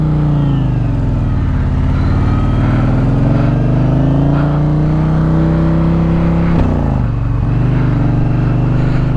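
A 2022 Indian Challenger Elite motorcycle ridden in the rain, its engine droning loud and close with gear-linked rises and falls in pitch and a brief dip partway through, over a constant wet road rush.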